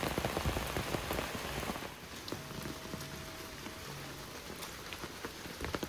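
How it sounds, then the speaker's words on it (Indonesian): Rain pouring in a quiet village, dense steady patter of drops on surfaces with a few sharper drips, moderately close and alone without voices. "Kalau sudah diguyur hujan seperti ini mah jadi adem."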